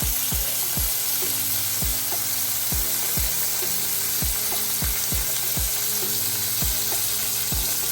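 Asparagus fries and chars in a pan with a steady, loud sizzle, while regular knocks and scrapes of stirring land about every half second.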